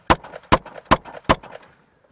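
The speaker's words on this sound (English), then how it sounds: "I need to go ahead and shoot my pistol" Four sharp pistol shots ring out at an even, quick rhythm from inside a vehicle, each a loud close crack with a short decay, then quiet.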